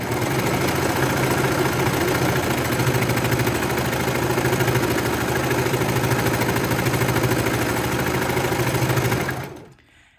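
A serger stitches a hoodie pocket in a steady, loud, fast mechanical whir with a rhythmic motor hum, running continuously for about nine seconds before stopping abruptly.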